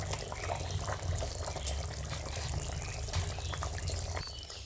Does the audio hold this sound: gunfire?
no